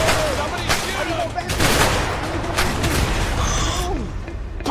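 Gunfire bursts from the co-op action game A Way Out, sharp shots and booms crackling through a loud, busy chase scene with engine noise and a voice calling out over the top.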